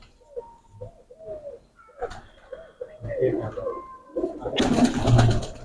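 Rooftop pigeons coo in repeated soft, rounded calls, close by, while people talk over them and a burst of louder noise rises near the end.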